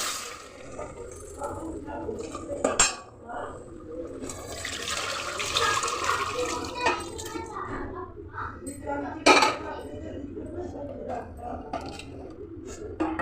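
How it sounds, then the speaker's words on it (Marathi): Mutton stock is poured into fried masala in a pot for Satara-style mutton rassa, a rushing, splashing liquid sound with clinks of utensils against metal, close by and fairly loud in bursts. "तर आता मी हा जो अळणी पाणी रस्सा बनवला आहे शिजवून मटणाचा, तुम्ही आता ह्याच्यामध्ये टाकते।"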